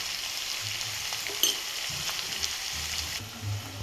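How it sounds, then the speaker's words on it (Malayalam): Onions sautéing with salt in a pan for a Kerala egg roast, a steady close sizzle with a few stirring scrapes and clicks, no voices. "സവാള ഇട്ട് നന്നായിട്ട് വഴറ്റിയെടുക്കുക"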